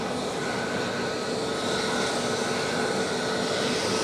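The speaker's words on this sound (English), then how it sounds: "We do have an aircraft on final approach." An aircraft on final approach at Edinburgh Airport, a steady broad engine roar with a faint tonal whine, sustained and fairly loud, heard from the ground without speech.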